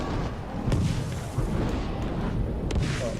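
Explosions in the video game Shadow of War sound as dense, rumbling booms and bursts layered with continuous low-end battle noise, loud and busy throughout, with no clear speech.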